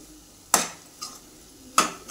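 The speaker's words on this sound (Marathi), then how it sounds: "तर मसाल्यामध्ये आपण सगळं सोयाबीन मिक्स करून घ्यायचं आहे" A spoon stirs boiled soybeans into masala in a metal pan, giving two sharp scraping clanks about a second apart with softer scrapes between them and a faint sizzle underneath.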